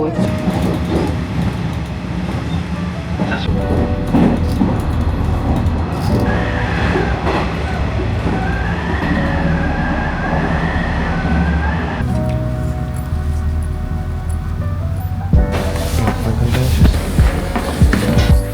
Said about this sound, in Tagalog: Train tracks.